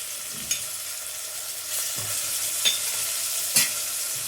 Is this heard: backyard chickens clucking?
no